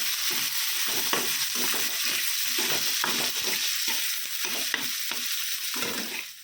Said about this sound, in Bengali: রসুনের পেস্টটা দিয়ে দিলাম,